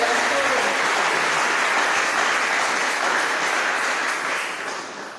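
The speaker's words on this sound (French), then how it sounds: "Oh, acclamons cette parole." A church congregation breaks into sustained applause, a dense, loud wash of clapping that holds steady and then begins to fade near the end, with voices blended in.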